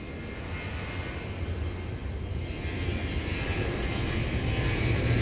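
An aircraft engine roars steadily at Incheon Airport in Seoul, a broad, continuous drone that grows slightly louder over a few seconds with no voices.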